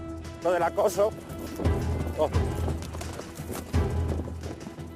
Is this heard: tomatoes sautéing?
no